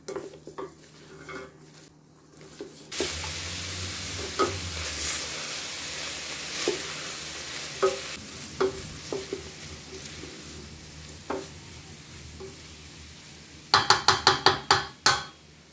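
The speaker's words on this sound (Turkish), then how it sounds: "Kavrulan soğan üzerine ince ince doğradığım taze fasulye ilave ediyorum. 10 dakika kadar kavuruyorum." Chopped green beans sizzle steadily in a pan over fried onions while a utensil clinks and scrapes against it now and then, ending with a quick series of sharp knocks.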